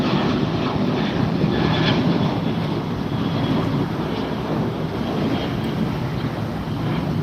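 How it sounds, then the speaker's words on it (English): An American Airlines jet taking off at LAX, a loud, steady, broadband engine roar that holds throughout, heard from nearby with some wind noise and no talking. "This is an American flight taking off."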